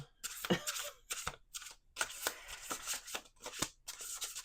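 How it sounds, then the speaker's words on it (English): Cards riffled and shuffled in a series of quick crisp bursts, close up, with short pauses between each riffle and no talking. "Okay, we got one more shuffle."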